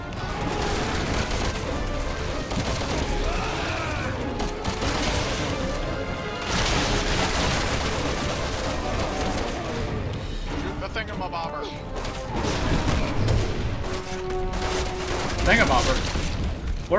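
Dense, rapid gunfire and explosions in the video game Resident Evil 6, loud and continuous bursts crashing and booming throughout, with players talking over the din.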